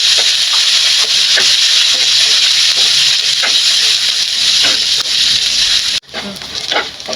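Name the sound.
cashews, pistachios and peanuts frying in hot ghee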